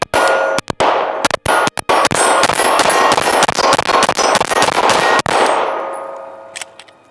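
Canik METE MC9 pistol firing a rapid string of shots at steel targets, each sharp crack followed by a loud metallic clang, dozens in quick succession before the ringing fades out.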